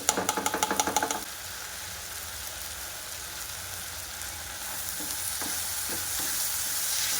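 Hakka noodle vegetables tossed with soy and tomato sauce on high flame, opening with a quick run of rhythmic metal clatters before settling into a steady loud sizzle that swells toward the end.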